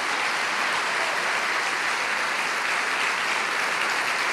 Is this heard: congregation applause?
yes